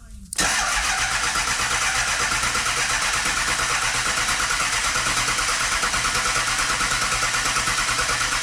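A car engine cranks and catches at once, then runs on as a steady, loud, close idle with a slight rhythmic pulse, on a rainy day of car repair work.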